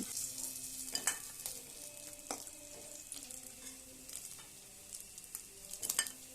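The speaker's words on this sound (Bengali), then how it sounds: "আমি উল্টে পাল্টে মাছের মাথাগুলো কড়া করে ভেজে তুলে নিচ্ছি।" Hilsa fish heads fry in oil while being turned, a soft steady sizzle with scattered crackles and spatula clicks, heard close with no voices.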